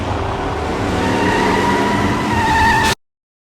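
Cars in a Fast & Furious chase scene roar and swerve with engines straining loudly and a rising whine, then the sound cuts off abruptly into silence.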